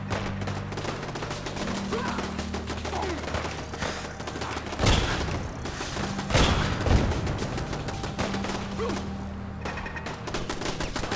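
Automated turrets firing in Fallout 4: dense, continuous volleys of rapid gunfire, with two heavier booming blasts partway through and a faint voice under the shooting.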